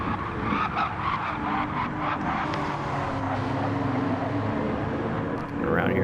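Race cars in Gran Turismo roaring off the race start, a dense, steady wall of engine noise with tire skidding and squeal running throughout at constant loudness.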